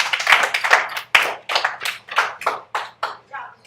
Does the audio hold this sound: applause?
yes